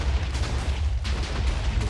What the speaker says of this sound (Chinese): 各种大爆炸